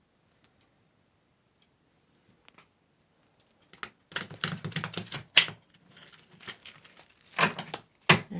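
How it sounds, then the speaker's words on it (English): Tarot card deck being shuffled by hand, a run of crisp riffling and slapping card bursts, close and fairly quiet, starting after a few seconds of near silence and coming in uneven clusters. "And so giving this deck a shuffle."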